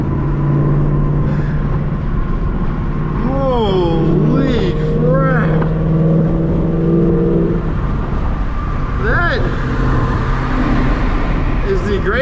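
A Ford Mustang GT with a Corsa Xtreme cat-back exhaust drones loudly and continuously from inside the car, its pitch rising and falling as it revs through the gears while people talk over it.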